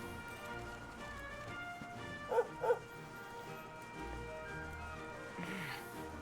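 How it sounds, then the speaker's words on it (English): A dog barks in the Dragon Quest video game, two quick barks in a row over quiet game ambience, followed by faint soft sounds. "Dog."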